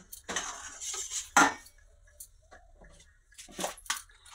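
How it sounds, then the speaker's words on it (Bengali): Sour yogurt whisked in a metal bowl gives a few quick clinking, scraping bursts with short quiet gaps between them, close and moderately loud. "এবার আমি যে গামলার মধ্যে টক দইটা নিয়েছি, ওটাকে ভালো করে ফেটিয়ে নেব।"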